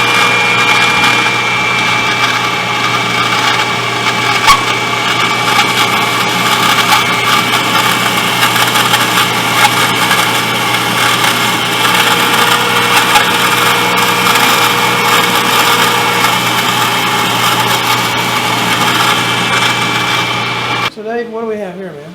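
Finish sanding on a handmade mahogany guitar in a guitar workshop gives a loud, continuous abrasive whir with a steady machine hum, then stops abruptly near the end.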